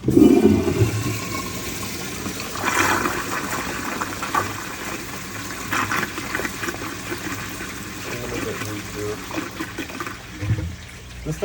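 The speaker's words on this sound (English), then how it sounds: "This thing has a faster flush than a lot of Glencos I've seen, and a more blowout flush" A 1978 American Standard Glenco toilet flushes with a fast, blowout-style rush of water, loud at the start and then a steady draining and refilling wash that continues throughout.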